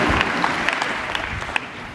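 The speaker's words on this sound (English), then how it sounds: "Clap it up, clap it up." Applause from an audience at a motivational seminar, a dense steady wash of many hands clapping with a few sharper individual claps standing out, moderately loud and continuous with no talking over it.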